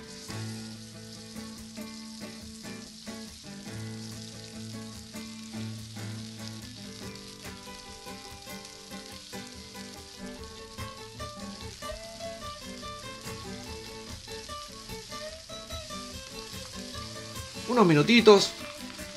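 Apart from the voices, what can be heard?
searing osobuco in oil on a hot disco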